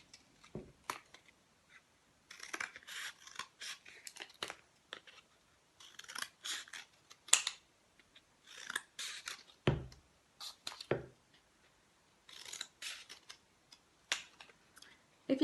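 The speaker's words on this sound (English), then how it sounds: "Now I need to cut it into small strips" Scissors snipping a flattened cardboard toilet roll into strips, a close series of crisp cutting clicks in irregular bursts separated by short quiet pauses, with no talking.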